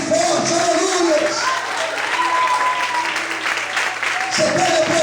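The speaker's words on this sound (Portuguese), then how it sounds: "Será que você pode aplaudir e exaltar ao Senhor bem forte?" Church congregation applauding loudly during a sermon, with a dense roar of hands that stays strong across the whole stretch, while a voice and sustained musical tones run underneath the clapping.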